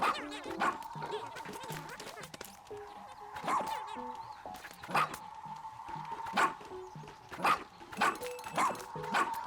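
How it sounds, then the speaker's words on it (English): Dog barks from the video game Pikmin 4 sound repeatedly over game music with a steady tone. The short yips come at an irregular, quickening pace near the end. "I've discovered the bark noise."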